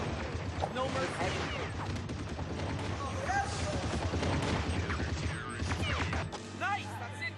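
Rapid gunfire and explosions from a Counter-Strike style first-person shooter match, dense and continuous bursts with crashes throughout, heard under players shouting over one another.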